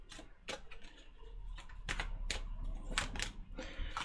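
Quick, crisp tarot card shuffling riffles and taps in irregular bursts, close and fairly quiet, with a low hum underneath.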